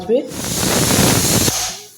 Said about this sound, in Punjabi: ਲਓ ਜੀ ਇੱਕ ਵੀਸਲ ਆ ਗਈ